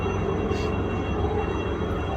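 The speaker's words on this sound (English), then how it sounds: "I apologize for the helicopters going over." Helicopters flying overhead during a cleanup of an oil leak from boats, a steady loud rotor and engine drone that holds constant throughout with no talking over it.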